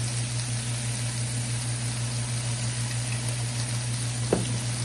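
Chow mein noodles sizzle steadily in a pot with sweet chili and plum sauces, a continuous frying hiss with a low hum underneath and a single faint knock near the end.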